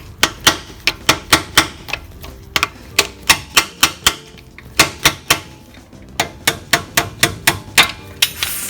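Repeated metal hammer blows drive a part home on a Jeep Cherokee, sharp close strikes in quick bursts of several hits with brief pauses between runs, loud and with no talk.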